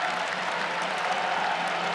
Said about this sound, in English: Crowd here at Virginia starting to get a little bit more juice, a little bit more energy